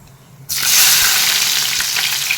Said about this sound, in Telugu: తాలింపు లేగినాయండి మనం ఉల్లిపాయ వేసుకుందాం